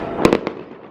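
New Year fireworks in east London bursting in three sharp explosions close together, with a steady crackling background of more distant bangs.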